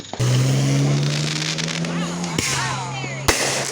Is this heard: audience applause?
no